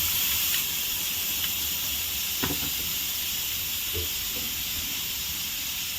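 A steady, loud hiss of escaping steam runs throughout, with a few faint clicks and knocks in the background.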